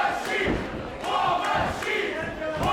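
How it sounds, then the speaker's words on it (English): A wrestling-event crowd chants in rhythmic, swelling waves, filling the arena at moderate loudness with dull thuds underneath. "Crowd still chanting for Vecchio."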